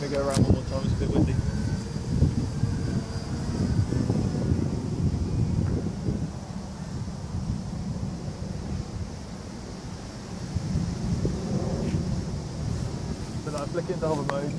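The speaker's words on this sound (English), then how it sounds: "it's a bit windy" Wind buffets and rumbles across the microphone in uneven gusts while an RC VTOL aircraft flies, a low roaring bluster that rises and falls throughout.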